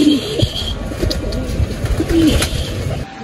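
Pigeons coo close by in a few short, soft rolling calls over low outdoor background noise, with no talking.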